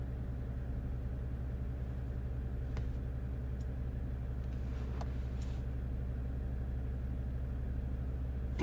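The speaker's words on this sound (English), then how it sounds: "I can definitely hear the compressor running" Air suspension compressor on a Jeep Grand Cherokee with a faulty Quadra-Lift system, running steadily with the vehicle stationary, a constant low droning hum throughout with a couple of faint clicks.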